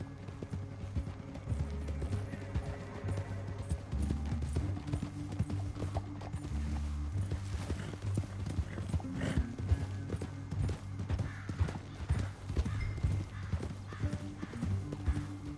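Steady clip-clop of several horses' hooves at a quick pace, continuous and fairly close, with an occasional whinny; no talking.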